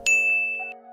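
A notification bell sound effect strikes once, a single clear ding that rings out and fades over about a second.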